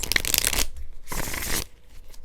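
Tarot cards being shuffled: two quick bursts of crisp riffling flutter, close and loud, separated by a brief pause.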